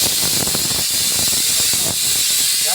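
An onion roasting directly over a stove flame, giving a steady loud hiss with irregular crackles and pops throughout.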